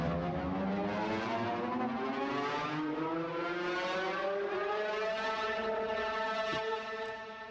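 A synth riser played on Trilian, a thick buzzy layered tone that sweeps slowly upward in pitch, sustained and loud throughout before tailing off at the end.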